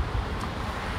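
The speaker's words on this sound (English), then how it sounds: "It's always windy when you do one of these." Wind gusting across a microphone in an open outdoor area, a low, loud, steady rumble lasting about a second with no voices.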